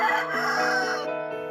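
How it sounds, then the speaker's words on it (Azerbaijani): A rooster crows in a children's shadow theatre performance at a kindergarten, a single clear, drawn-out harmonic call rising and falling, close and loud with no talk over it. "Xoruz 3-cü mahnısını adamlar üçün oxuyur"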